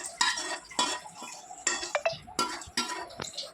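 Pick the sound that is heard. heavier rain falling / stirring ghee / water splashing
stirring ghee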